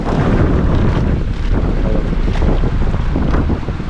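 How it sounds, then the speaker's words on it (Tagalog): Strong, steady north wind roars across the microphone, loud and continuous, with rumbling low gusts and no voices. "Ay norte yung hangin ngayon."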